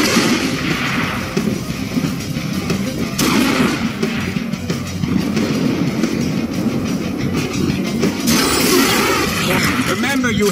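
Heavy gunshots from the Deadpool video game ring out among constant rumbling action noise, with several sharp bursts over a continuous loud background and a voice talking throughout.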